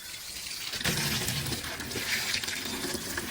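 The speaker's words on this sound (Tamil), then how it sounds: "அதாவது அரை டேங்க் தண்ணி பிடிச்சிட்டு" Water pours steadily and loudly into a fish tank being half filled for guppy breeding, a continuous splashing gush that holds the whole way through with no voices.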